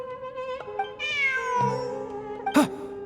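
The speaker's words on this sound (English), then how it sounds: "Look! A cat!" A cat in the video game Genshin Impact meows several times in clear, close, drawn-out calls, ending in a short sharp cry over a quiet ambient background.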